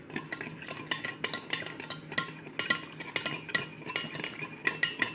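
Calzone filling seasoned with garlic salt is mixed in a bowl, a quiet, steady run of rhythmic scraping and light clinks of a utensil, close by with no talk.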